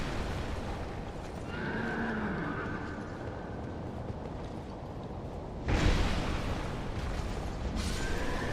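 A horse in the video game Dark Souls 2 gives a drawn-out whinny, loud within a dense rumbling game soundscape, followed by a heavy crashing burst.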